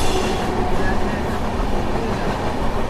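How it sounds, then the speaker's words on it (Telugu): A goods train with a banker locomotive at the rear rumbles past on a ghat section, loud and close, with continuous wheel and rail noise. "వెనకనొక లోకోమోటివ్ చూడండి బ్యాంకర్ లోకోమోటివ్"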